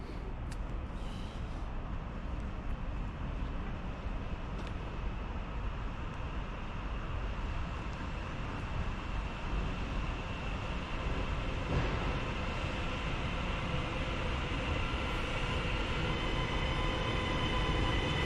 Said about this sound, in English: In comes the 10:38 Transpennine Express service to Edinburgh.